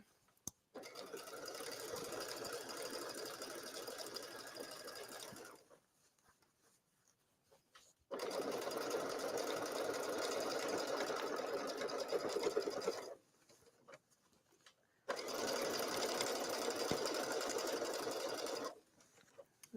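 A sewing machine stitches in three sustained runs of rapid, even needle chatter, close by, separated by quiet pauses with small handling clicks.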